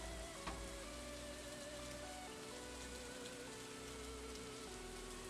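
Steady rain pours down in the Stardew Valley video game, a continuous hiss with soft pattering and a faint low hum beneath, quiet and unbroken with no talking.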